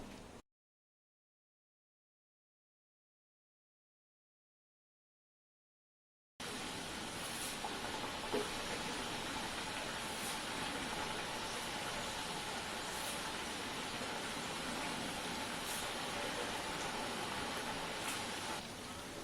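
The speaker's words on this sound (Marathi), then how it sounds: "तेल कसं तापलं आहे बघण्यासाठी आपण एक तुकडा टाकून घेऊया तेलात" A piece of chakali dough, a spiral rice-flour snack, dropped into hot frying oil gives a steady, even sizzling hiss that starts abruptly after a silent stretch and continues alone at a moderate level.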